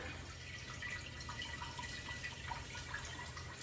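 Filtered well water runs steadily into a 100-quart stock pot, a faint continuous splashing with small drip-like bubbles, heard alone with no talk.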